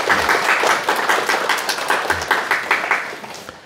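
An audience at a question-and-answer session claps together, a close and lively burst of many hands with individual slaps easy to pick out, tapering slightly toward the end.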